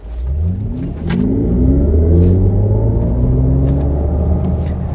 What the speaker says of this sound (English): that sound, again, is like a roar from a really huge engine, but without the vibration